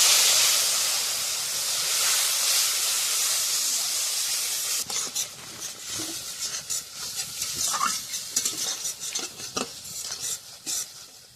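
Ground spice masala for a live puti fish curry hisses and sizzles steadily in a pan on a wood-fired clay stove, then turns to bubbling boiling once water is poured in, with stirring scrapes and clinks close by and no voices.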